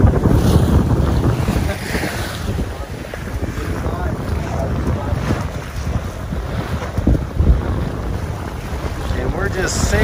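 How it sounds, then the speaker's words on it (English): Sailboat under way in the British Virgin Islands bound for Virgin Gorda, with steady wind buffeting the microphone and water rushing and slapping along the hull, a constant broadband wash throughout. "we're just sailing over to Virgin Gorda and staying out in Leverick Bay"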